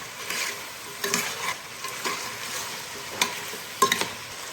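Tomatoes and carrots are stirred into a sizzling pan for vegetable biryani, giving a soft continuous fry with several scraping stirs and a clink of the spoon near the end.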